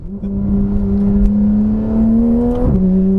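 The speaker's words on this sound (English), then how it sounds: "Revving this car out" Porsche 991.1 911 GT3 with a muffler-delete exhaust revving hard, its loud engine tone climbing steadily before a sharp shift drops the pitch and it pulls on again.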